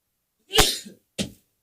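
A sharp, explosive burst of breath followed by a shorter second burst a moment later, close and loud, with silence around them.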